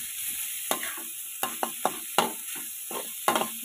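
Minced pork being stir-fried in a pan for Thai basil pork, with a steady sizzle and repeated sharp scrapes and clanks of a spatula against the pan at an uneven rhythm, close and fairly loud with no talking.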